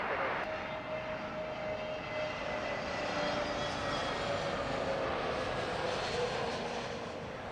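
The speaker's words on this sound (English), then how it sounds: "Scandinavian touching down there" Scandinavian Airlines jet touching down at London Heathrow, a steady distant engine roar and rushing whine held throughout, with faint talk underneath.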